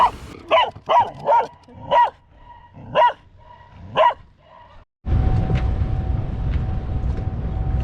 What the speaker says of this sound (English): results in long barking conversations